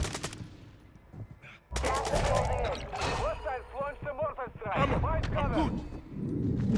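Video game gunfire in a warzone-style shooter, bursts of shots and rapid automatic fire crackling loudly under near-constant excited talk.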